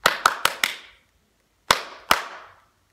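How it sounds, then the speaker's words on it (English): Hands clap a rhythm dictation for a third and fourth grade music lesson: four sharp, evenly spaced claps, a pause, then two more, each crisp and close with a short ringing decay and no talking. "softly point along while I clap"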